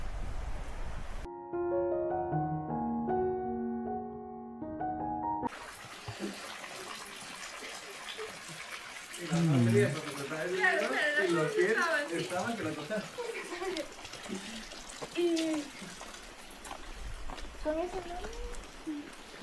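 Forest stream water flows with a steady gurgling rush. It follows a brief burst of music, and chirping, voice-like calls ride over the water in the middle stretch.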